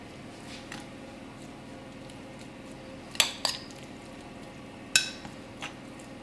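Eggplant slices being spread by hand in a quiche dish, giving a few soft, close clinks and taps of utensil against dish over a quiet background.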